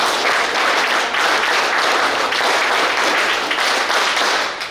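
Dense, loud applause fills the whole stretch from a crowd at a community de-addiction camp gathering in Deralakatte, Mangaluru, steady and even before tapering slightly at the end.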